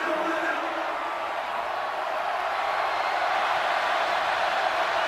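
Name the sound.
football stadium crowd cheering, LSU at Arkansas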